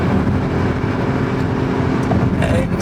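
A car cruising at about 120 km/h on Germany's three-lane A5 motorway, with other cars passing, gives a steady, loud rumble of road and engine noise throughout.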